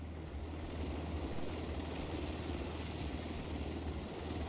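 A helicopter in the video game The Division 2 gives off a steady, droning rotor and engine hum, fairly close and constant throughout, with no one speaking.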